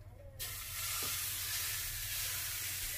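Oil hisses hard in a hot pan for a savoury crepe, a sudden loud sizzle that starts after a short quiet moment and keeps going steadily, close up and alone.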